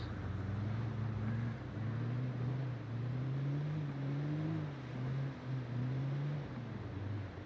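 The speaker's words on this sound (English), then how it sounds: "you can probably hear I'm throttling the engine here" A vehicle engine in the Project Zomboid video game is throttled steadily, giving a continuous low droning hum with slowly rising and falling pitch, loud and alone with no talk throughout.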